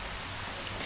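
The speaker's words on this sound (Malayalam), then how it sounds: "മഴ ഇതാ മഴ ഇങ്ങനെ പെയ്തുകൊണ്ടിരിക്കുകയാണ്." Rain pours steadily, a dense even hiss of drops hitting surfaces close by, with no other sounds or voices.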